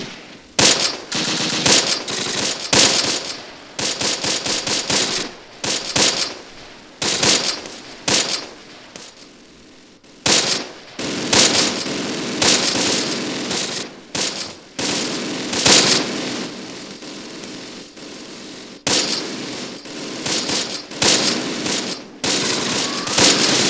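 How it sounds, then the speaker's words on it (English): Battle gunfire in the war game Close Combat, with long bursts of machine-gun fire and scattered shots, loud and near, coming in repeated volleys with brief quieter gaps between them. "enemy tanks firing on our positions"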